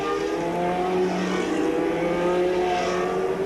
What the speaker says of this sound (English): the cars head for the grid